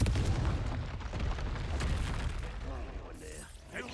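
The Confringo explosive spell cast in the Hogwarts Legacy video game, a rumbling blast with heavy low booms that fades out over a few seconds, mixed with game combat noise.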